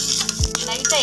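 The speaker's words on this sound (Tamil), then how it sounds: "அந்த பூண்டை வந்து நம்ம இதில் போட்டுக்கலாம். அதையும் வந்து நல்லா வதக்கிக்கலாம்." Peeled garlic cloves sautéing with coconut in an oily pan, giving a steady close sizzle with a brief stirring scrape partway through, no voices.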